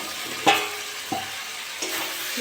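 Potatoes being stirred into a masala gravy for a potato-and-tilapia fish curry, giving three soft scraping stirs against a faint background sizzle, no voices.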